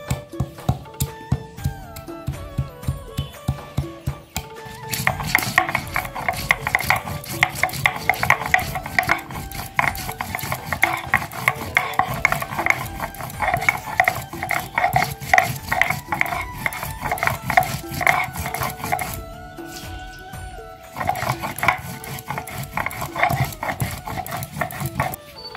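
Garam masala ground by hand on a grinding stone, a near, steady run of rhythmic rubbing and grinding strokes that stops briefly and starts again, with no talk.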